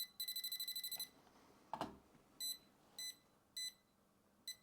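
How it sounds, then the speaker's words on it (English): A small handheld wire detector beeps near a wall, with a quick rapid burst of beeps, then several spaced single beeps, faint and close, with a brief thump in between. "So the little machine beeps."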